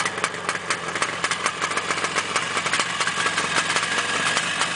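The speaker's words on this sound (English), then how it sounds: "Yep, that's the way it starts. RD350 Yamaha." A 1974 Yamaha RD350 classic motorcycle engine idles steadily after starting, with a rapid, buzzy two-stroke pulsing that stays loud and close throughout, with no voices.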